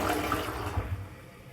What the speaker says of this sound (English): So here's the short flush.